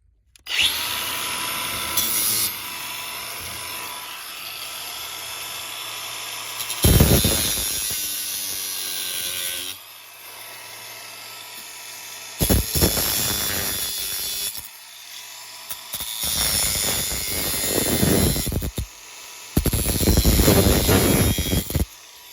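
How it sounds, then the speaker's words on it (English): A power grinder cuts off screws on a central air conditioning unit, loud harsh bursts of several seconds each with short pauses between them, close up and with no talking. "and then we'll grind off the screws."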